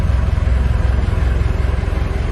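A boat's main engine idling very low in neutral, a steady, deep, loud rumble with an even pulsing throb throughout and no voices.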